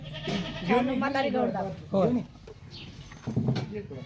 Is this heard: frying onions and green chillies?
no